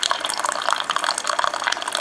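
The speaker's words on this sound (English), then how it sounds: "the hot water is passing through the K-cup inside the sheath itself, and I have a nice little cup of coffee" Special edition Keurig brewer pushing hot water through a K-cup into a coffee cup, a close, continuous trickling and splashing pour that stays steady throughout.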